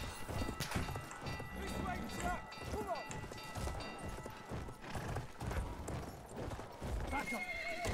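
A horse gallops with rapid thudding hoofbeats and lets out loud neighs during a Battlefield 1 battle retreat, set against dense game noise and clashes.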